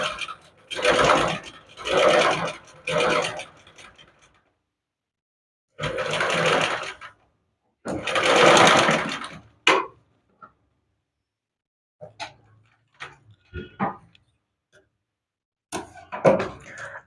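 Domestic sewing machine stitching a V-neckline corner in a basic tailoring lesson, running in several close bursts of a few seconds each with pauses between, followed by brief ticks and clicks of handling and adjustment.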